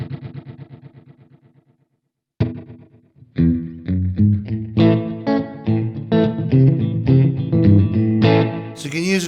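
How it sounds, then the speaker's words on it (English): Electric guitar through a Walrus Audio Sloer reverb pedal set to a short slapback room reverb: a decaying note, a pause, then a run of plucked notes and chords with tight, quick echoes, played alone without speech. "So you can have that little short slap back in there."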